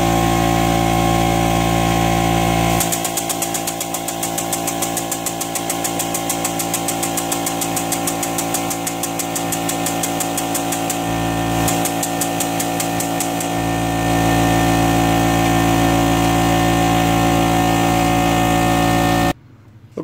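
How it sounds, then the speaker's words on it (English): Air compressor running steadily in a garage during a CVT transmission replacement on a 2012 Nissan Altima 2.5L, a loud continuous motor hum with a rapid chattering pulse in stretches, stopping abruptly near the end. "you're going to hear the air compressor."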